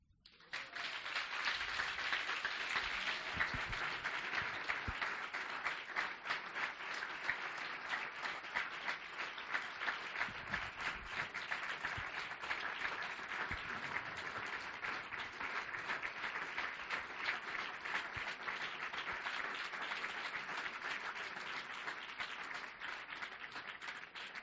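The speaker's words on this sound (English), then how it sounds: "I think he deserves a hand clap." A church congregation applauds together after a sermon, steady sustained clapping from many hands filling the room for over twenty seconds without a break, with faint voices mixed in.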